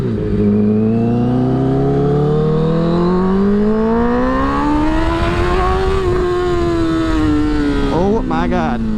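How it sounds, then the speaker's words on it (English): A Honda CBR1000RR motorcycle engine revs up on the road, its pitch climbing steadily and loudly over several seconds before easing off amid wind rush, with a brief burst of clatter near the end. "this bike's got a little more power than necessary for these roads"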